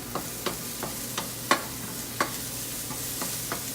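A wooden spoon stirs bean sprout filling in a non-stick pan, giving about a dozen light, evenly spaced scraping knocks over a soft steady sizzle, close and fairly quiet with no talking.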